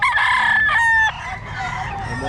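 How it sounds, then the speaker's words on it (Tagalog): At a poultry seller's stand, a rooster crows loudly and close by, a long strained call over the murmur of other chickens clucking in the background. "Daming manok yan"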